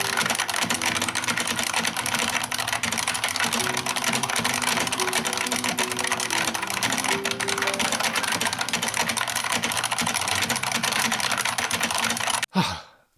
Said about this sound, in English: Now I will type even faster than before.